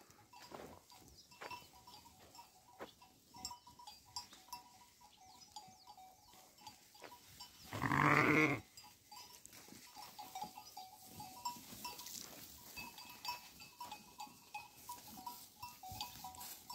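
A flock of grazing sheep in an overgrown field at sunrise: one loud, close bleat stands out midway over quiet rustling, soft bell clinks and faint animal movement.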